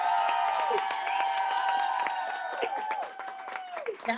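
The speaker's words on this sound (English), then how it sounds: "Can we get one more applause?" Applause and cheering from a crowd at an author talk, dense clapping with whoops and a ringing tonal sound on top, fairly loud and continuous for a few seconds.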